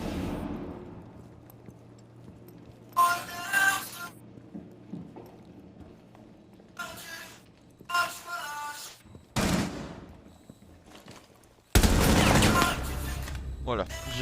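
Video game gunfire crackles in several short bursts spread across the scene, ending in a longer, louder volley, with quiet game ambience and occasional talk in between.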